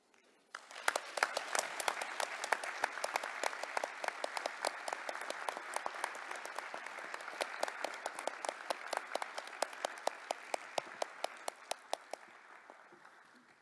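Sustained applause fills an award ceremony for a forest champion honour, with sharp, loud individual claps standing out over a dense, steady crowd that builds quickly and tapers slightly near the end.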